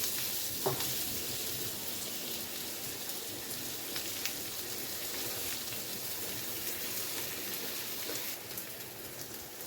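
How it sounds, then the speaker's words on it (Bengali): Onion and tomato frying in a pan, a steady, dense, fairly quiet sizzle with faint occasional pops running unbroken throughout. "পেঁয়াজ আর টমেটো মোটামুটি ভাজা হয়ে গেছে।"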